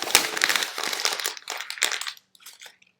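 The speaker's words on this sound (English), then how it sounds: "He crinkles up the scrap paper and tosses it in the garbage can." Scrap paper crinkled up by hand, a dense burst of crackling and crunching that runs for about two seconds, then fades to a few faint rustles; close and fairly loud with no talk.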